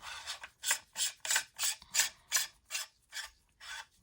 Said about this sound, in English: Okay, you just screw that back on there